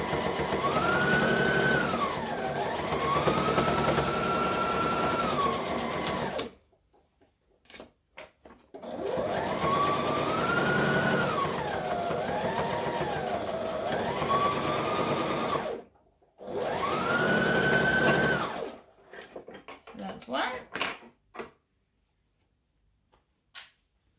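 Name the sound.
sewing machine stitching and backstitching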